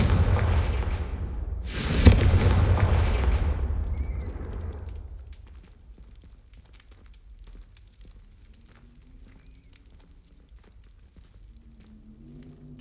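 A Confringo spell detonates in Hogwarts Legacy, a loud roaring blast with a sharp crack near the two-second mark that rumbles and fades over several seconds into quiet ambient game sound.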